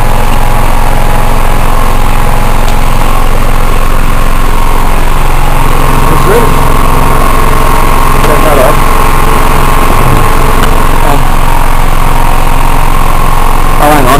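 A generator runs with an air compressor plugged into it, a loud, steady, close engine drone that fills the whole stretch, while someone briefly speaks over it.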